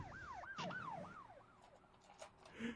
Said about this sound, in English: You start hearing sirens